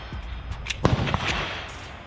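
A Shadow Systems DR920 Elite pistol loaded with a Glock magazine fires a few sharp, close shots in quick succession, with short echoes between them.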